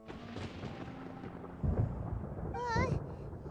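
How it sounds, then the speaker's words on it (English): A rumble of thunder rolls through a Genshin Impact game scene, low and sustained beneath game sound and a character's voice, swelling briefly partway through. "Paimon hears thunder!"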